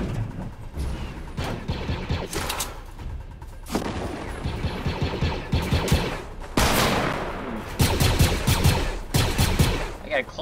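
Submachine gun fire in Fortnite Battle Royale, repeated bursts of fairly distant, crackling automatic shots coming in clusters, with speech at times.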